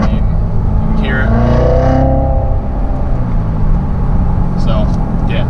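2015 Corvette Z06 with a manual transmission blipping its engine to rev-match on a downshift, a loud throaty rise and fall in pitch heard from inside the car while a person talks over it.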